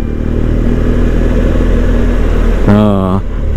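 Motorcycles, including big touring bikes like a BMW R 1200 GS, rumble at a ferry port, a steady close engine idle under talk, with one bike briefly revving near the end.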